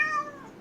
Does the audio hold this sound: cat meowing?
yes